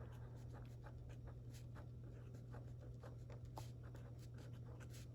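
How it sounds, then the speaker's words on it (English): Steps written down by hand with a pen on paper, soft continuous scratching strokes, close and quiet over a steady low hum. "let's write down our steps that we can follow"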